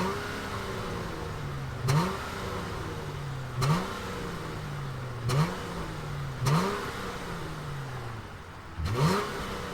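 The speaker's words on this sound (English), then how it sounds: "we got the GT, this is a V6, let's fire it up and hear what it sounds like" A 2020 Dodge Challenger GT 50th Anniversary Edition with a V6 engine revs five times, each throttle blip rising sharply then sliding back down to a steady idle, close and loud with no talking.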